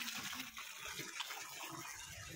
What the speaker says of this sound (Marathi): इथं मनी प्लॅन्टला थोडं पाणी जातं.